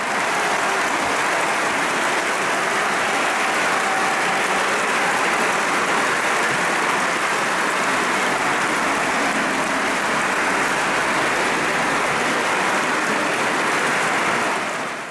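A large crowd in Naples cathedral applauds continuously for a long stretch during the San Gennaro celebration, a dense, loud, steady wash of clapping with a roomy, reverberant quality.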